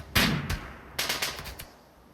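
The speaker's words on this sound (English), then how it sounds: "Oh, the turret's shooting." Turret gunfire in the colony-sim game Rimworld: a loud burst of shots near the start, then a rapid cluster of four or five cracks about a second later, fading into quiet.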